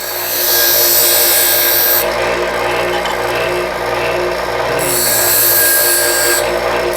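A bench grinder sharpens a TIG welding tungsten electrode: a steady motor whine overlaid with bright, hissing grinding bursts as the tip is pressed to the wheel, twice in close succession.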